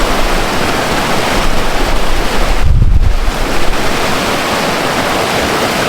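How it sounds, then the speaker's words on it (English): Wilson Creek near the town of Mouth of Wilson, flowing behind a store, gives a steady, full rushing wash of water that stays even and fairly loud for about six seconds, with no voices. "But behind here is Wilson Creek."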